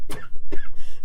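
A person gives a couple of short, sharp coughs close to the microphone, with a quiet room behind them.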